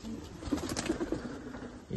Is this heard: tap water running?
no